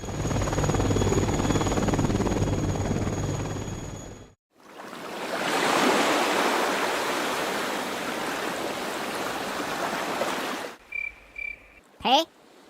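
A helicopter flies over a flooded village, producing a loud, steady rotor roar that cuts out briefly, then resumes as a broad whooshing drone before ending abruptly, followed by a few short faint sounds.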